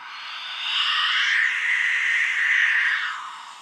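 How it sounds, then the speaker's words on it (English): A breathy, rising and falling whistle blown steadily on a metal Acme wind whistle for a few seconds, loud and close, swelling in the middle and fading at the end. "this is the Acme wind whistle"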